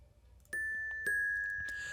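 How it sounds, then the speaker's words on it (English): A single bell strike rings out in a hip-hop beat, a clear pure tone sustaining over sparse, quiet percussion hits. "the bell only happens one time"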